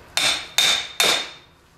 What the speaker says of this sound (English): Then just take your hammer